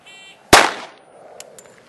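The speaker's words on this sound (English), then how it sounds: "I'm going to grip the gun with these two fingers and fire it." A single sharp handgun shot, fired while the gun is held with only two fingers, rings out loud and close before a brief decaying echo fades into near silence.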